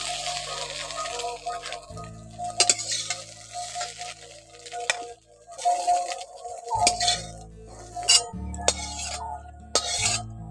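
Fried soybeans are scooped from a hot oily pan, quiet sizzling broken by sharp clinks and scrapes of a utensil against the metal, with brief pauses between scoops.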